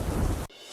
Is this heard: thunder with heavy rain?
yes